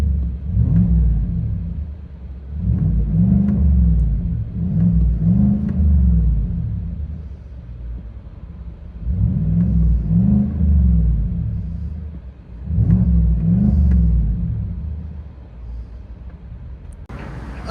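A 2020 GMC Sierra AT4 with a 6.2L V8 and Borla Atak exhaust, heard from inside the cab, gives several loud, deep revs, each swelling and falling back to a low rumbling idle between bursts.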